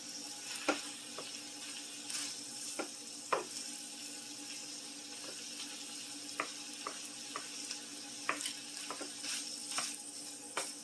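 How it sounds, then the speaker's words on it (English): Pork fried rice stirred in a pan, with a steady sizzle under repeated scraping clicks of a utensil against the metal at an uneven rhythm; close and moderately loud, no talking. "You're going to mix it in."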